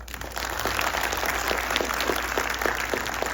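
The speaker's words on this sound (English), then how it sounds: "Big round of applause for him." An audience at an awards ceremony applauds the chief guest with steady, dense clapping that holds for several seconds, and no one speaks over it.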